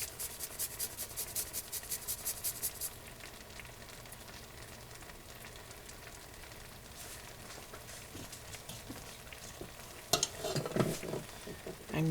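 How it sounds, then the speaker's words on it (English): Garlic cloves rubbed against a grater for a beef curry, giving rapid, close scraping strokes in a steady rhythm at first, then a softer rasping texture, with a few louder knocks and clatters near the end. "we're just going to grate this garlic in"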